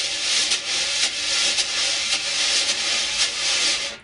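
Wire drum brushes held loosely and swept across a drum head give a steady, soft swishing wash with faint pulses roughly every half second, played alone and close.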